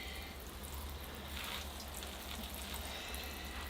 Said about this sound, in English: All right, here I go with the watering.